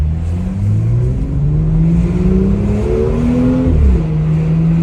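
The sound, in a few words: BMW M2 engine sound while driving at 45 km/h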